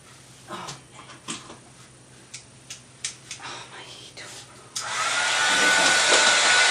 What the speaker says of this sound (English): we are heat embossing him